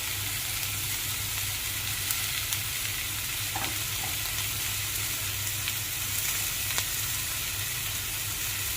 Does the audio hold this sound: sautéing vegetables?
yes